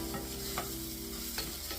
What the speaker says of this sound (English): stir that in with the rice